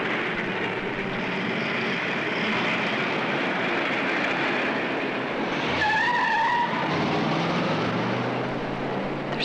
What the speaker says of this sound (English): There's so many cars.